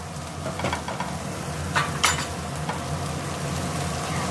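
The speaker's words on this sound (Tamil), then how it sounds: "டொமேட்டோ சாஸ் வந்து பார்த்திங்கன்னா நல்லா மிக்ஸ் பண்ணி இப்போ டோட்டலாக மிக்ஸ் பண்ணிக்கலாம்" Tomato sauce is stirred through rice in a pan, a spoon scraping and knocking against the metal in short bursts over a faint sizzling background.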